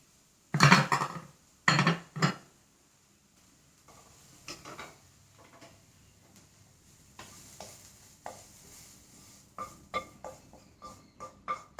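Spoon stirring rava dosa batter in a bowl: a few loud, close scraping clanks at first, then a string of lighter, irregular scrapes and taps against the bowl continuing to the end, with no talking.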